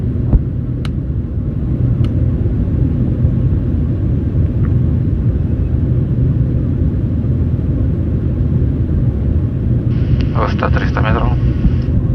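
Steady low engine rumble of a plane on the ground, continuous and fairly loud, with a few brief higher chirps near the end.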